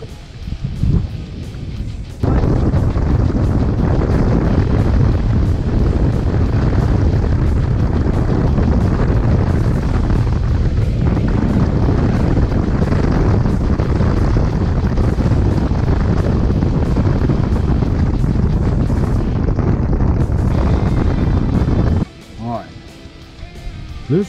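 Strong gale-force wind buffets the microphone on a lake during a fishing outing, a loud, steady roar lasting most of the clip before suddenly dropping away near the end.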